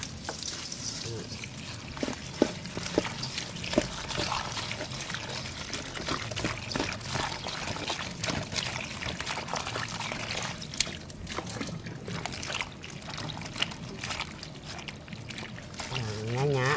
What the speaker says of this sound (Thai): ปอกเสร็จเรียบร้อยนำมาล้างน้ำเกลือค่ะ